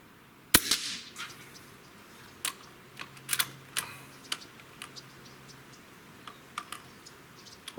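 Hatsan BT Big Bore Carnivore air rifle, a big-bore PCP gun, fires a single sharp crack, followed by a run of small clicks and ticks as the bolt is worked through a rough slug, fairly faint and with no talk.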